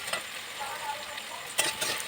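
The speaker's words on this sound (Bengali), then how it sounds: "ভেন্ডি ভাজাতে একটু হলুদ দিয়ে দিলাম নুন দিয়ে দিলাম" Okra frying in a pan with turmeric and salt, a close sizzle with scraping stirs and a couple of sharper clacks of the utensil against the pan.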